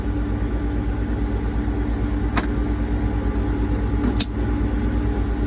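A farm vehicle used in a soybean harvest idles and pulls away, its engine a loud steady close drone with a throbbing low pulse and two brief sharp clicks partway through.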